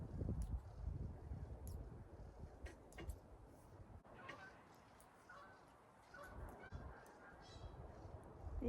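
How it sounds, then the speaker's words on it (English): Distant geese honk intermittently over gusty wind rumble in Northern California, scattered calls drifting in and out at low volume. "Geese are coming home for the night."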